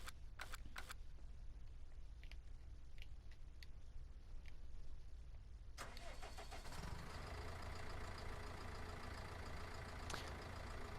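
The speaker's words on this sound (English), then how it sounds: "when I start this tractor up, it almost sounds like a propane tractor" A small diesel tractor in Farming Simulator 19 cranks and starts, then settles into a loud, steady idle with a dense, even engine rumble; a few light clicks come before the start.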